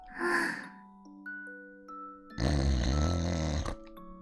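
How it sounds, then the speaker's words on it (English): Gentle breathing of a sleeping girl in a visual novel game comes as a soft breath at the start, then a longer, louder breath later, over quiet sustained music tones. "I hear her gentle breathing in and out."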